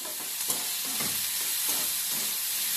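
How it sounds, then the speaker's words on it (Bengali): Salted ingredients stirred in a little hot oil for a pasta soup, giving a continuous close frying sizzle with a few soft spoon scrapes against the pan, and no voices. "কিছুক্ষণ এইভাবে নাড়াতে চাড়াতে থাকবো, যতক্ষণ না জিনিসটা থেকে জুসি জুসি একটা ব্যাপার বেরোয়"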